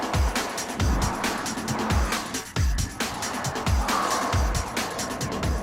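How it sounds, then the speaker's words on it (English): A 2008 Pontiac G8 drifting, its tires squealing and engine revving in repeated surges, loud and close, with rhythmic bursts of tire noise across the run. "Was that a drift? That was a drift"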